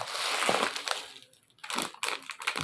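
Crinkly rustling and crackling of plastic or cardboard packaging of a K35 wireless Bluetooth microphone being handled up close, in several bursts with brief pauses between.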